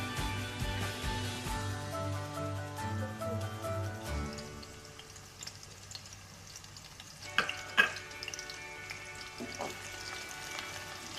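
Onions and garlic sauté in a pan with a low, steady frying crackle under a humming background, broken by a few sharp utensil taps.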